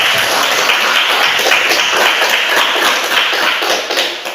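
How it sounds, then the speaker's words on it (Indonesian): Classmates in a school classroom applaud together, a dense, steady patter of many hands clapping at close range that fades slightly at the end. "Kita beri aplaus dulu untuk teman-teman"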